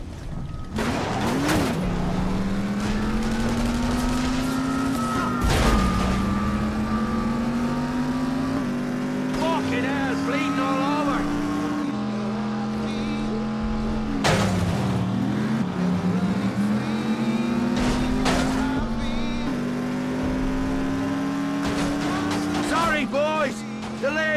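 A car driving fast in The Saboteur, its engine droning and rising in pitch as it speeds up, with gear-shift dips, a few crashes and skids. Someone talks over it throughout.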